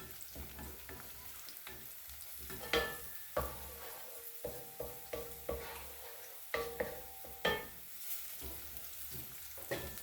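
Garlic and shallots frying in a pan for a chicken curry soup, a quiet continuous sizzle broken by a regular series of spatula taps and scrapes against the pan, with no talking.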